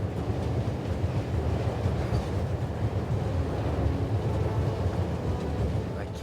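A moving train in the video game The Raven gives a steady, dense rumble with rattling and low roaring noise that holds at an even loudness throughout, with no voices.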